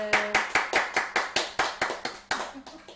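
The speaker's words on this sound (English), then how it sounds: "The designer should have a round of applause" Steady clapping from a small group at a live patchwork cutter session, crisp regular claps about five per second, close and fairly loud, briefly over a faint voice and tone.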